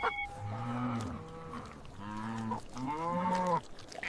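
A cow moos three times in long, low, drawn-out calls with short pauses between, close by and with no other sounds.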